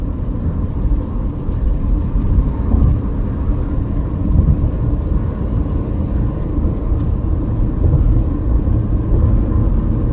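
A car cruising along the Cipali toll road, a steady low rumble of engine and tyre noise, close and continuous, with no talk.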